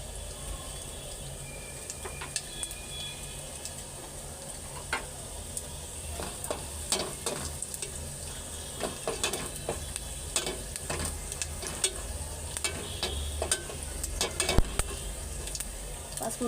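Panch phoron spices frying in hot oil for dal in a home kitchen: steady close sizzle with scattered clinks and stirring taps of a utensil against the pan, faint voice-free background.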